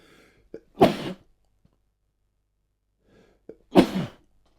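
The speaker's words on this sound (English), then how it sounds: "I've got a sneeze coming, so hold on 1 second" Two close, forceful sneezes from one person, each preceded by a quick sharp intake of breath, separated by a few seconds of silence.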